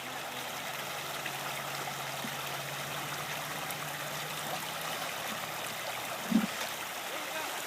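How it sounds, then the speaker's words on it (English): Kern River water flows in a steady, even rush close by, a continuous broadband wash with a brief knock near the end and no clear talk. "We're out on the river a little bit"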